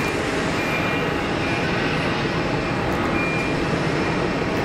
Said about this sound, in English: the 767 is right there. So we'll grab that as it starts to taxi